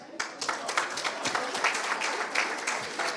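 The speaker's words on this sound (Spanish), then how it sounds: "un fuerte aplauso para él" Audience applauding an award winner at a ceremony, a dense burst of clapping with sharp irregular hand strikes that carries on steadily, close and lively.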